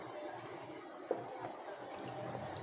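Chopped ripe papaya gets rinsed in water, with quiet splashes and drips against a soft background, faint and close.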